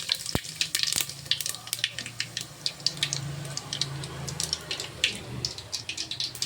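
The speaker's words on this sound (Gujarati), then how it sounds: "આપણે જીરું નાખવાનું થોડું" Cumin seeds sizzle and crackle in hot oil for dal dhokli, a close, steady frying hiss with small pops throughout.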